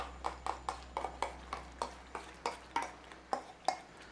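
Curry paste being stirred into a chicken curry in a pot, a rapid steady series of about fifteen soft spoon knocks and scrapes, close and quiet, with no talking.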